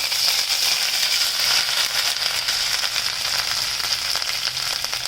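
Finely grated ginger dropped into hot oil in a pan for a rasam-style broth, giving a loud, steady, close sizzle and crackle throughout, with no voices.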